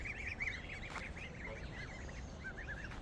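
Geese on a goose farm honk and cackle repeatedly at a distance near their divided tent enclosure, a faint, steady chorus of calls over a low background hum.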